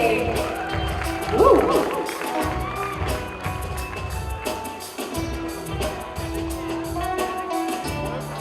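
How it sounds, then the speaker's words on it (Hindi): Audience clapping and crowd noise at a red carpet awards show, a steady rattling patter throughout, with voices and background music mixed in. "एक बार जोरदार तालियां हो जाए सर के लिए"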